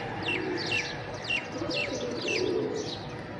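Racing pigeons on a rooftop give a string of about seven short, evenly spaced calls over a constant low background rumble.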